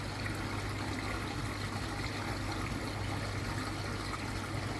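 Water running steadily through a fish tank filter, a constant soft trickle and wash with a low hum underneath, continuous and unchanging throughout with no voices.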